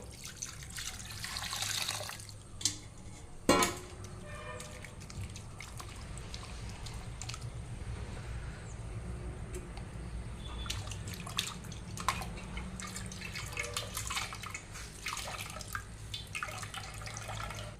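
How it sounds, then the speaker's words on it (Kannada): Water is poured over freshly strained paneer in a cloth to rinse it, giving a continuous trickle with occasional splashes and drips, close and unaccompanied by voices. "ಇವಾಗ ಇದಕ್ಕೆ ಸ್ವಲ್ಪ ನೀರನ್ನು ಹಾಕಿ ಇದನ್ನು ಚೆನ್ನಾಗಿ ತೊಳಿಬೇಕು"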